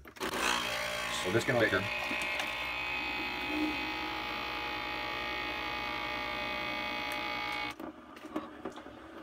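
A Nespresso and a Keurig coffee machine brewing side by side at the same time, a steady loud electric hum and pump whir running for most of the clip before cutting off, with a person talking over the start.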